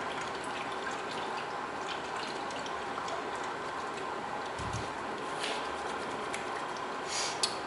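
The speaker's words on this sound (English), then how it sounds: "And wash my hands here." Tap water runs steadily through the whole stretch while hands are washed beneath it, a constant soft rush at low level with a few faint splashes and clinks near the end.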